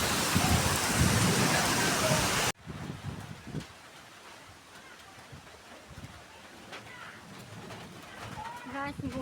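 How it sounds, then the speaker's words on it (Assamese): A violent wind and heavy rain storm tearing at bamboo and tin-roofed houses: a loud, dense roar for the first couple of seconds, then a lower steady patter with a person talking over it. "গাইছ কিমান ডাঙৰ বতাহ বৰষুণ দিছে চাওক"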